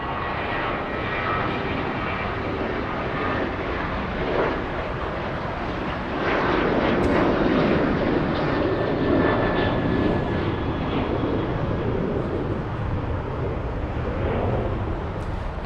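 An American Airlines Boeing 737 takes off from LAX bound for Nashville, its jet engines building into a sustained loud roar that swells midway and lingers, with no talk over it.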